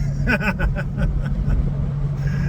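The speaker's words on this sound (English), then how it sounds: "We met our friends, jumped into his Ferrari." A Ferrari driving along a road in the Portuguese countryside, its steady low engine drone and road noise constant throughout, with faint laughter and voices murmuring inside the car.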